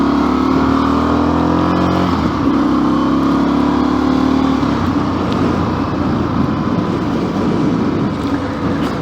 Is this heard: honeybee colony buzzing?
no